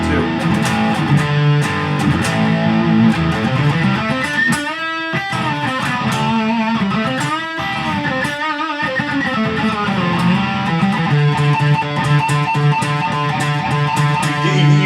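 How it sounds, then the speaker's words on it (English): A distorted electric guitar plays sustained chords and short riffs, loud and continuous with brief pauses between phrases. "You hear it even with the distortion too."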